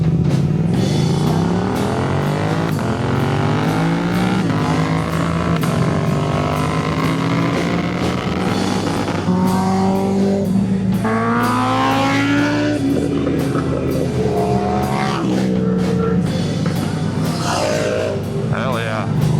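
A Suzuki motorcycle racing engine roars loudly and continuously, rising and falling in pitch through shifts and revs while a rider's voice speaks over it.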